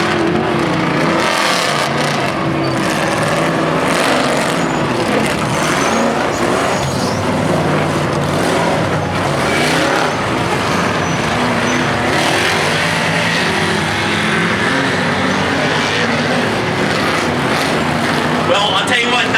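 Race cars in a heat race roar steadily toward the start-finish line, a dense continuous engine drone with revving swells, loud and close throughout, with a commentator talking over it.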